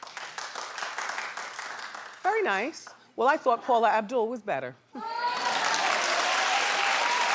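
A studio audience claps loudly on a recap show about the Billboard Music Awards, a dense burst of applause at the start and again at the end, with people talking in between.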